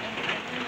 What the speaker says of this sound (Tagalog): At ulan ngayon.